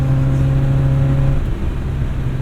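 A 1977 MG Midget pulls hard toward 60 mph, its engine drone loud and close from inside the car, with a steady pitch that drops briefly midway, as at a gear change, before settling again.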